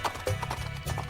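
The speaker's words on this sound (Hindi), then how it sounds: "वो अपने सामान को बांधकर घोड़े पर चढ़कर वहां से चला गया।" Horse hooves clip-clop steadily and close as a rider departs on horseback in a narrated picture-story sound effect, with a brief whinny near the start.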